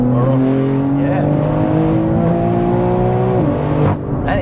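A 1000+ bhp single-turbo, all-wheel-drive BMW G80 M3 accelerates hard, engine pitch climbing steadily and loud before a sharp drop at a gear change.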